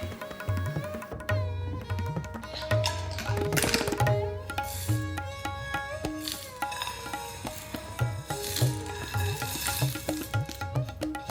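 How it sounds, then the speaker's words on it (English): Whole spices for lamb nihari dry roast in a hot pan, giving a continuous sizzle with scraping and rattling as they are stirred and tossed, close and steady, with no talking. "I like to dry roast my spices"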